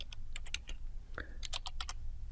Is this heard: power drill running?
no